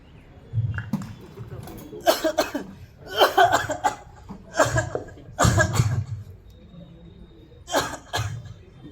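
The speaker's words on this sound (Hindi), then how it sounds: "इतने दिन से आप खांस रहे हो और ये आपकी खांसी तो रुक ही नहीं रही है" A person with a persistent cough, in a tuberculosis awareness skit, coughs in repeated harsh bursts, close and loud, with short pauses between fits and quiet breathing in the gaps.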